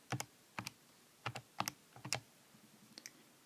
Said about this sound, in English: So I'm going to type that in on the calculator